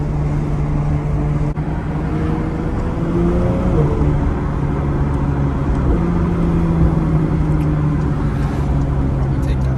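A Porsche 992 GT3 race-style sports car on the move, its engine droning loudly inside the cabin with tones rising and dropping as it shifts up through the gears, continuous and close with road noise underneath.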